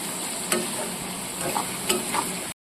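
Vegetables fry in a pan with a sprinkle of turmeric for egg fried rice, a continuous close sizzle broken by a few sharp stirring scrapes and clinks.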